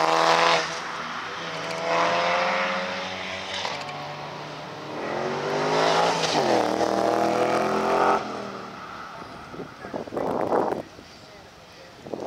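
Mitsubishi Lancer Evo 9 rally car, number 56, on a tarmac rally stage, revving hard with rising and falling gear sweeps as it passes, with voices talking over the engine noise.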